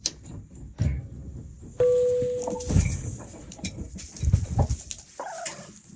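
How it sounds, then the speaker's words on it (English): A gray rooster makes a few scattered clucks close by in a rural forest farmyard, broken up by thumps, a short whistle-like tone and other faint bird calls. "This gray rooster."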